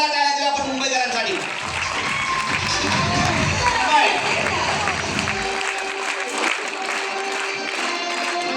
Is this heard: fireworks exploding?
no